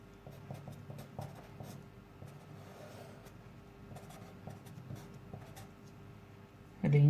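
A pen or marker scratches steadily while a function is written out during a math lesson, soft close strokes in short runs with pauses, ending in a louder bump.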